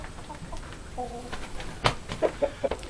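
A broody mother hen sits on her eggs, giving a few low, close clucks and soft grumbling notes, with a sharper burst of clucking toward the end.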